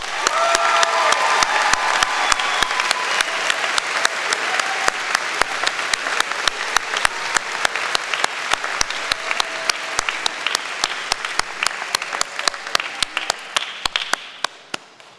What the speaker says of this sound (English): Please join me in acknowledging him with a round of applause.